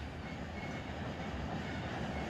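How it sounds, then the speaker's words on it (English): Train brakes dragging in the Run 8 train simulator game, a steady grinding rumble with rail noise, continuous and faint without talk. "I hear the brakes dragging there."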